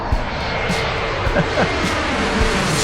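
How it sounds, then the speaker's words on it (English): Airplanes come in to land low overhead beside a road, a loud broad engine roar and wind rush filling the scene continuously, with small bumps and rattles close by. "today, they were landing. And so I had planes right over my head"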